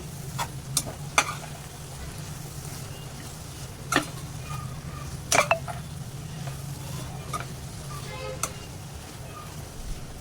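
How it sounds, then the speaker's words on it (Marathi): Raw jackfruit vegetable sautéed with fresh grated coconut and turmeric in a pan, a low steady sizzle under scattered scraping stirs and occasional sharp utensil knocks against the pan. "आणि ओलं खोबरं आता हे छान असं परतून घ्यायचं"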